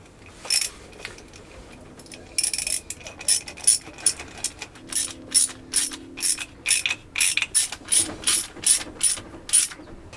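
A ratchet tightens a hose clamp on the pipe of a new Kubota circulating fresh-water pump on a Universal M2-12 diesel engine, giving close, crisp bursts of rapid clicks in a steady back-and-forth rhythm after a few quieter scattered clicks.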